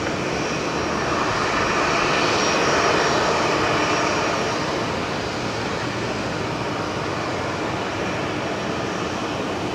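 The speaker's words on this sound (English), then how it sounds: "Jetstar 58 with 321 Neo coming from Denpasar" Jetstar Airbus A321neo from Denpasar arriving on the new runway at Brisbane Airport, a loud, sustained broadband engine roar that swells and slowly eases off, with no talk.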